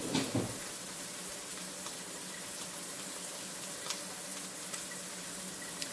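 A pot of gumbo simmers on a kitchen stove, giving a faint, steady bubbling hiss with a few small pops and no talking.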